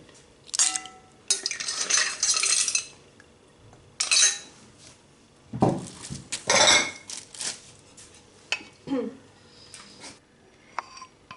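A seafood salad of prawns and mussels being tossed together in a bowl, giving bursts of clinking and scraping utensil sounds against dishware, loud and close, separated by short quiet gaps.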